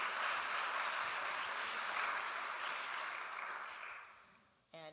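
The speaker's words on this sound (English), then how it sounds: "Let's give Gil another round of applause." Audience applause at a community event held in a temple, steady broadband clapping that holds for several seconds, then thins and fades toward the end, with a brief different sound cutting in at the very close.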